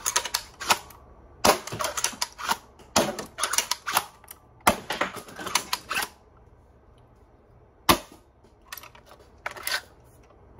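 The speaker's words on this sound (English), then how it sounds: "So, let's do some firing." Foxbat foam-dart blaster fired with a straight Talon magazine, giving bursts of sharp mechanical clacks and rapid snapping shots in quick clusters, loud and close, with short pauses between volleys and no talking.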